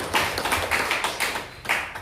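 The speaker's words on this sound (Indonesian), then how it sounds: "Kita berikan tepuk tangan sekali lagi." A gathering at an official inauguration ceremony in Serang claps in a few loose, rhythmic bursts. The sound is close and slightly reverberant, with no talking over it.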